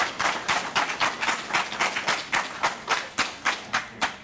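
Audience at a university political forum clapping in a steady rhythm, evenly spaced claps about every third of a second, loud and close with no talk over them.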